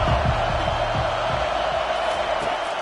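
Stadium crowd roaring at a college football game, a loud, sustained wall of cheering that fills the space throughout, with deep thumps and bangs low in the mix during the first seconds.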